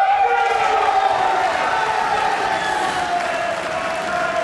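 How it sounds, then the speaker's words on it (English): An arena crowd at the 2015 World Pool Masters applauds and cheers steadily after a pool match goes the full distance, a dense, sustained wash of clapping and cheering with no pauses. "The crowd loving it."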